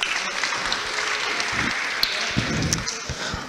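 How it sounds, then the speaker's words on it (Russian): An audience applauds the presentation team with steady clapping at moderate loudness, dotted with a few sharper individual claps across the few seconds. "поэтому давайте им похлопаем"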